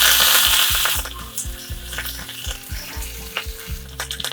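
Curry leaves dropped into hot oil give a loud, close burst of sizzling that settles into steady crackling and popping, with stirring clatter underneath.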